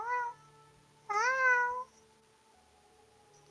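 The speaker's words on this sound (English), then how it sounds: "It's not a skeleton cat. It's a real cat." A real cat meows twice: a short cry at the start, then a longer, louder, rising and falling meow a second later, close and clear over a faint steady background hum.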